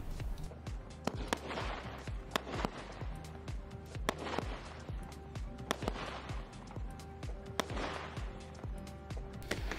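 A consumer firework battery fires in a steady rapid sequence, sharp cracks and booms repeating about every second with crackling bursts between, loud and continuous throughout.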